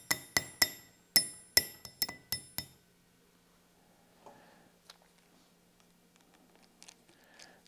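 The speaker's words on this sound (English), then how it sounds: "Now I like to give it a little tappy tap to make sure all the plates are nice and lined up and even" A knife is tapped to line up its plates during assembly. About nine sharp, ringing metallic clinks come in a quick irregular run, then fainter handling clicks and rustles follow, close by and with no voices.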